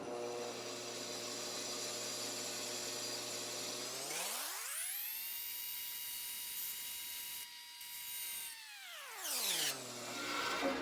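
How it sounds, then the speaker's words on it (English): A bandsaw whines at a steady pitch while cutting, then spins down to a lower drone partway through and ramps back up near the end, with no talking. "Now we'll run this through the bandsaw to cut that line through there."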